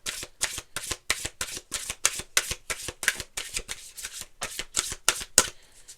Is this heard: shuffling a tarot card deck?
yes